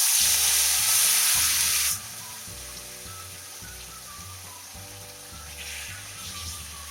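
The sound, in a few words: onion paste frying in oil with nigella seeds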